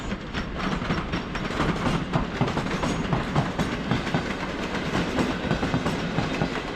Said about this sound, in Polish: A to pociąg Matejko.